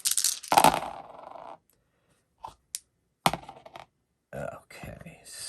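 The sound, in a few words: seven dice being rolled in a tabletop game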